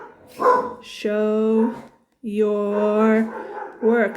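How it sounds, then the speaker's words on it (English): Dogs barking indoors nearby, a few loud sustained barks and yelps in bursts with a short pause between, under a voice speaking. "I don't know if you guys can hear my dogs barking."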